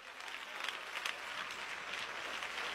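A church congregation claps together in steady, dense applause, fairly faint and distant, with no speech over it.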